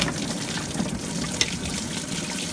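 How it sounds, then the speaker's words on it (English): Coolant water splashes out of a BMW 535i water pump hose into a bucket, a continuous close gushing and pouring with a brief sharper splash partway through. "take that hose off the water pump, and I've got my bucket under here because we're gonna start gushing water"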